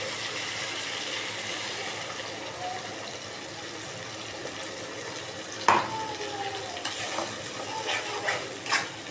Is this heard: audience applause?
no